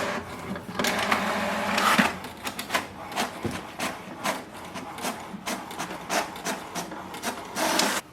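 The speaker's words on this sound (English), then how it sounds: "Next is to print the password of this printer." An HP DeskJet 2955 inkjet printer prints a page with rapid mechanical clicks, whirring feed motor and rhythmic back-and-forth carriage passes, close and moderately loud, running for several seconds without talk.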